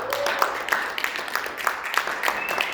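A small room of people claps in a steady, irregular patter at a state committee gathering honoring a woman on International Women's Day, with a faint tone running beneath the clapping.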